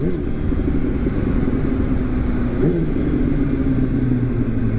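A Yamaha R1 sport motorcycle downshifts on the road, its engine rumbling loud and close with a brief rev blip midway under steady wind and road noise.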